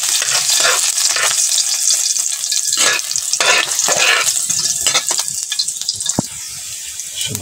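Garlic and mushrooms sizzle steadily in hot cooking oil in a home kitchen, a loud continuous crackle broken by scraping stirs and the occasional clank of a spatula against the pan.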